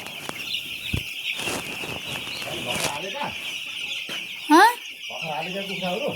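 Chicks peep in high, rapid chirps among clucking hens and fluttering wings, with a brief burst of sharp chirping and faint voices.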